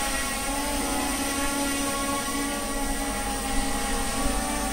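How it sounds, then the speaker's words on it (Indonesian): Two drones, an MJX Bugs 16 Pro and a Cfly Faith 2, hovering together outdoors, a steady high-pitched whine of spinning propellers with no voices, unbroken and moderately loud throughout. "Sekarang kita tunggu berapa lamakah kedua drone ini"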